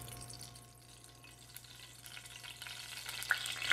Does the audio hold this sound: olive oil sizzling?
yes